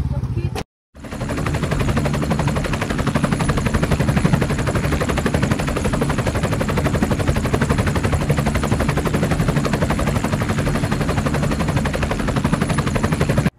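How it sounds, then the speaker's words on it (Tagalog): A helicopter carrying passengers runs steadily, its loud rotor thump and engine drone continuous and close, broken only by a brief dropout near the start. "Sakay na sa helicopter ang mga mananap."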